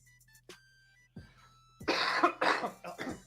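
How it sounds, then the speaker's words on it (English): A person coughs into their elbow indoors: a soft throat sound first, then a burst of several harsh, close coughs in quick succession, loud and alone without talk. "Elbow cough."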